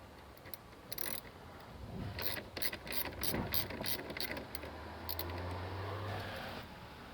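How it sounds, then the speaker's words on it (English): Ratchet wrench with a 13mm socket backing off a battery nut on a Chevy Colorado, a quiet run of rapid clicking bursts, close up over a low background hum. "I'm going to go after it using a 13mm socket and remove that nut"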